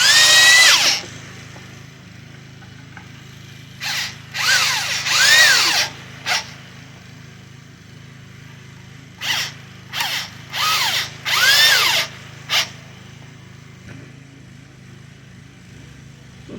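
A power driver sinks Torx T20 screws into a homemade wooden ottoman, sounding as loud whirring bursts in two clusters, short and repeated, with quiet pauses between runs.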